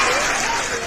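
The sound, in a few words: audience applause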